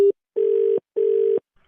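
A telephone disconnect tone after a call is hung up: a short beep and then two longer steady electronic tones with even gaps, clear and close with no talking.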